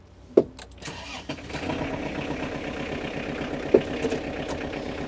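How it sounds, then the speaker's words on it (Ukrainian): Kubota GL367 compact Japanese tractor fitted with a front loader, its engine cranking with a sharp start, then settling into a steady close, low idle with another brief revving bump partway through. "Зараз ми заведемо трактора"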